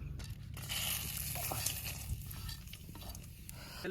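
Whole spices such as bay leaf, cardamom, cloves and cinnamon bark frying in hot oil, with a steady close sizzle and faint stirring for a village chicken and aromatic rice dish, no voices.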